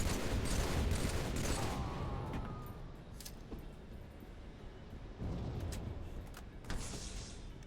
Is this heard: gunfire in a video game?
yes